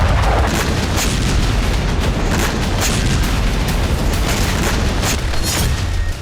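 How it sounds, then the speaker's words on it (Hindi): A loud, sustained roar of explosions with repeated booming bursts, close and overwhelming throughout, as a Russian kamikaze drone strike destroys a grain warehouse in Ukraine. "रूस के आत्मघाती ड्रोन के धमाके से यूक्रेन का एक अनाज गोदाम भस्म हो गया।"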